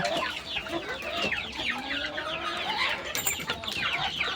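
Desi chickens on a farm cluck and call continuously, a busy flock close by with overlapping squawks and no talk.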